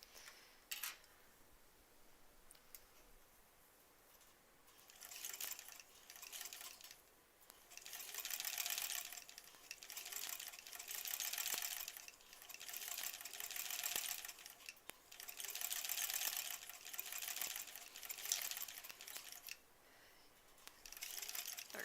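A sewing machine stitches a stuffed bunny toy in bursts, back tacking with fast rhythmic mechanical chatter that starts, stops and restarts across the stretch, fairly close and steady with no talking.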